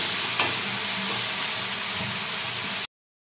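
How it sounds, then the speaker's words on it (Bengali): Water poured onto potatoes and cauliflower frying in a pan hits with a loud, steady hiss and sizzle that cuts off abruptly. "জল দিয়ে দিচ্ছি, পরিমাণ জলে এটা ফেলতে হবে।"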